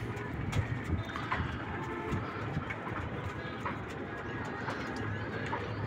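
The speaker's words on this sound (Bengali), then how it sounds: "এখন কবুতর উড়ানো হচ্ছে না, ওরা নিজেরাই যতটুকু পারে তো উঠতেছে" Domestic pigeons kept for breeding stir and flutter about their loft, giving a steady, dense rustle with scattered soft cooing and brief flaps throughout, with no talk.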